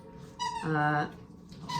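Young puppy whining and squeaking while playing with a Halloween bat toy, a couple of short high cries with one longer drawn-out whimper in the middle, close and fairly loud.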